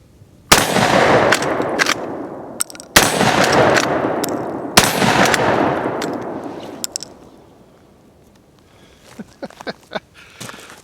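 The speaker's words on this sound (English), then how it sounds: "I've got the Model 1887 loaded up with 3 black powder rounds" A Century Arms Model 1887 lever-action shotgun fires three black powder rounds outdoors, each a loud, sharp blast with a long rolling tail, followed by quieter clicks of the lever action.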